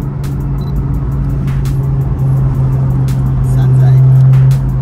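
A very loud car engine idles close by with a deep, rumbling drone. It swells briefly as it revs, and people talk over it.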